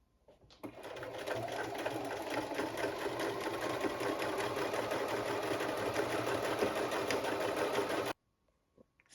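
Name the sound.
sewing machine quilting lines on fabric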